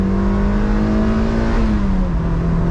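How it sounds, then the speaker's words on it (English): A Mazda NC Miata sports car engine revved hard, loud and close, its droning pitch holding steady then dropping slightly as the revs come off. "So we're gonna rev it out."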